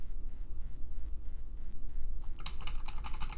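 Computer keyboard keys, arrow keys nudging a layout in Photoshop, tapped in a quick burst of clicks in the final second, after a quiet stretch with low room hum.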